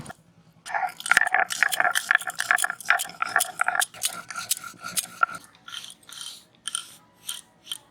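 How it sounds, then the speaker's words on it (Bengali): Dry-roasted whole spices are ground into a paste for village-style mutton curry, with dense crunching and gritty grinding strokes close up, dense at first and then thinning into separate scrapes, with no voices. "ভাজা মশলাটা বেটে নেব।"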